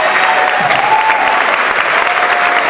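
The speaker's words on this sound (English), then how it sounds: "Let's give her a nice round of applause." Steady, loud applause from a large audience at a variety show, continuous clapping filling the room with no break.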